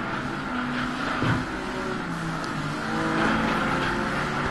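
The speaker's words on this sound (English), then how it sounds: "I always found these sort of engine noises kind of weird in this" Race car engines in the video game Flatout: Ultimate Carnage give a steady, loud, buzzing drone with a slight surge in pitch partway through. No voices are heard over it.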